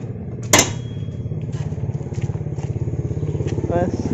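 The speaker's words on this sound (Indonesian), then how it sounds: "sepertinya ada motor, guys." A motorcycle passes by near a parked Yamaha Vixion 2020 touring adventure build, a steady pulsing engine drone running throughout under talk, with a sharp knock near the start.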